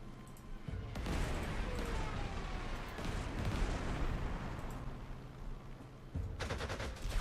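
Bombing attack in the World War II strategy game Panzer Corps 2, a burst of rumbling explosions and rattling gunfire that swells after a short lull and carries on for several seconds, then drops and flares again near the end.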